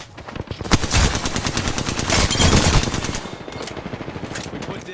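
Rapid automatic gunfire in a video game rattles in dense bursts, loud and close, with overlapping shots building and then easing off toward the end.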